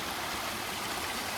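A mountain stream on the path to Satdhara in Lahaul rushes steadily, with a dense, even hiss of flowing water close by and no voices.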